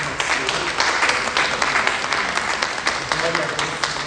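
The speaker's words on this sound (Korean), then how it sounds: "우리 환영하는 박수" Korean church congregation during Sunday worship in Dallas claps to welcome visiting newcomers, a steady ripple of hand claps from a hall full of people with faint voices under it.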